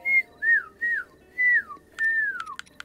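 A person whistles by pushing air through a squeezed bottom lip, producing five wavering, falling tones in a steady row, close and fairly loud, with a few sharp clicks under the last one.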